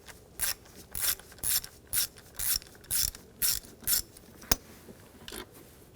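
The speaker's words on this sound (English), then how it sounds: "Using a 10mm socket, take this bolt out." Ratchet turning a 10mm socket to remove a valve cover bolt on a 2007-2013 BMW X5 3.0L inline-six, rhythmic bursts of close clicking repeated about eight times, one sharp tap near the end.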